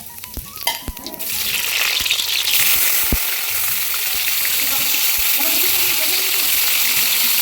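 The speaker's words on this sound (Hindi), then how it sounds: "कढ़ाई में डाल दिया है तेल," Oil poured into a hot kadhai bursts into a loud, continuous sizzle after a second of clattering kitchen noise, holding steady and close.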